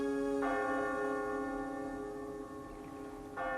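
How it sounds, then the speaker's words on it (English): A deep town clock bell tolls twice with slow, resonant strokes, each ringing out and lingering as a long humming decay. "when the town clock began to toll."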